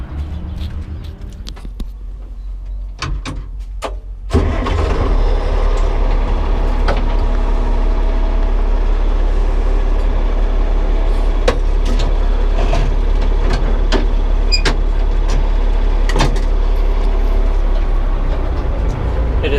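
Farm tractor engine during a winter corn harvest, a low steady drone that jumps louder a few seconds in and then runs continuously as the machine drives, with scattered clicks and knocks over the rumble.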